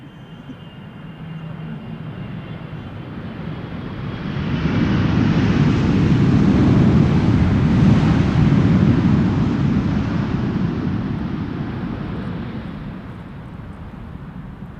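A KLM passenger airplane returning from Willemstad, Curaçao lands at Schiphol Airport, a jet roar swelling from far to loud and near over several seconds, then slowly fading as it passes, no talking.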